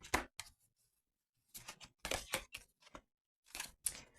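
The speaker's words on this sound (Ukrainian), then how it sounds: "зараз поправлю колоду, секундочку" Quick shuffling and riffling of playing cards, a few short bursts of papery flicks separated by brief pauses, close and quiet.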